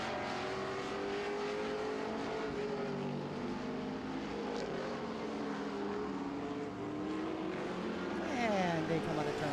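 Street stock race cars roar around the Owosso Speedway oval, engines droning and shifting pitch as they pass, a loud continuous rumble under a commentator's voice, swelling near the end.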